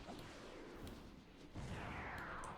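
Firework ability effect for the Smoke Fruit in the Fruit Battlegrounds video game: a dense, noisy whooshing burst that jumps louder partway through and ends with a rising hiss, with no voices.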